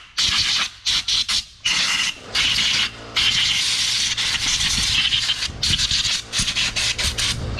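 Compressed air blasting dirt and belt residue off the primary clutch of a 2020 Polaris General 1000, loud hissing bursts in irregular on-and-off pulses, some long and some short, with no talking.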